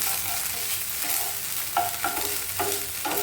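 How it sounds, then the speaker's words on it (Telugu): Onions and curry leaves fry in a pan with a dense, steady sizzle, punctuated by several soft stirring scrapes, close and without speech. "మనకైతే ఉల్లిపాయలు వేగిపోతున్నాయి"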